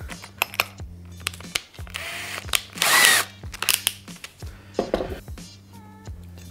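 A close, loud power drill bores into wood with a 25 mm bit while building a coat stand with a bench. The motor whines in short bursts and rises to a harsh chewing peak mid-cut, with clicks and handling knocks around it.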